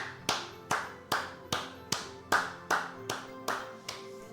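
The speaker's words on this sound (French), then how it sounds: "Acclamons le Seigneur sans le commentaire de qui que ce soit" A church congregation claps in steady rhythm to acclaim the Lord, about eleven sharp, evenly spaced claps close by with no talking over them.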